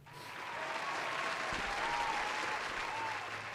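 Sustained applause from a crowd in a played excerpt of a political speech, steady and fairly loud, swelling in the first half-second and holding for several seconds without a break.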